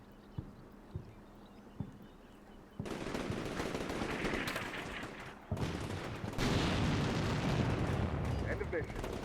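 Suppressing gunfire pours onto a rear building in a military video game. A few isolated shots come first, then sustained, dense bursts of automatic fire that grow louder and more intense.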